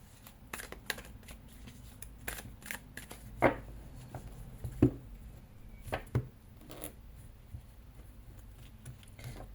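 Tarot cards being shuffled and cut, with soft riffling and papery slaps, a few sharper taps as the deck is split and squared, fairly quiet and close.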